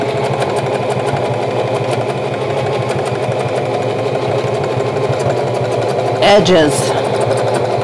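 A sewing machine runs steadily through free-motion quilting on a regular home machine, a constant mechanical drone heard under a person talking, with a brief louder rustle of fabric near the end.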